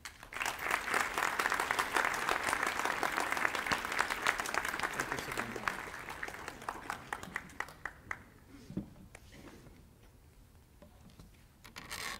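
An audience applauds to welcome speaker Ruben O. Valdez at a school gathering, with steady, dense clapping that swells early, then thins out and fades as scattered claps linger.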